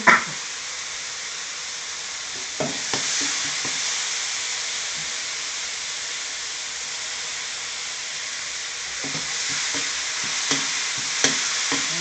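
Tamarind water sizzling in a hot pan while a three-flavour chili sauce for tilapia cooks: a steady loud hiss runs throughout, with scattered light stirring knocks near the start and the end, and no talking.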